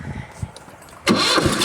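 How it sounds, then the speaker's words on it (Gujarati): A tractor engine cranks and catches after a quiet second, then runs in a loud, rough idle close by for the rest of the moment. "આપણે ટ્રેક્ટરને થોડુંક આગળ લઈ લઈએ મિત્રો"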